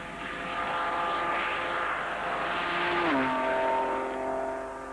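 Jaguar V12 engine running at a proving ground, a sustained smooth tonal drone whose pitch drops partway through, as if passing or easing off.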